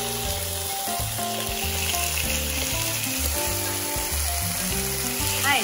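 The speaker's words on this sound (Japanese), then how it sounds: "今ホットプレートの上に鮭を並べていきます。" Salmon pieces for chan-chan yaki fry on a hot plate, giving a steady, close, continuous sizzle with tonal background music underneath and no speech.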